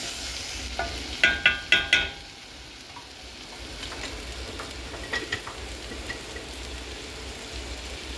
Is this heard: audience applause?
no